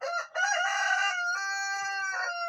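A rooster in a chicken coop built from old barrels crows loudly and close, one long harmonic cock-a-doodle-doo with a short break near the start, clear and alone.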